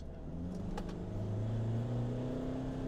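A 2024 Mitsubishi Triton Shogun pickup accelerating hard at full throttle from about 30, its engine note rising steadily in a loud, continuous drone heard from inside the cabin, with no talking.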